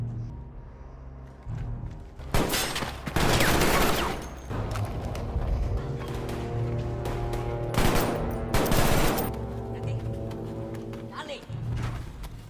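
Gunfire erupts in a film scene set in a cartel tunnel, with loud bursts of rapid shots in clustered volleys over a low rumbling background score.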